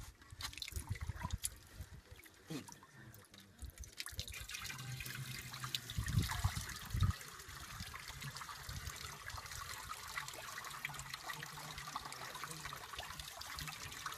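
Water from a deep well pours and splashes into a trough in drought-stricken Thar, Pakistan, a continuous rushing trickle that grows fuller after a few seconds, heard close and without talk.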